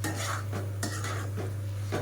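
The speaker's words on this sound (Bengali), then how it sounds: "বেশ কিছুক্ষণ এইভাবে আমি নাড়াচাড়া করে কষিয়ে নেব" Ground coconut masala for a tangra fish curry is stirred in a pan, with a spoon scraping repeatedly against the metal in quick, close strokes over a low electrical hum.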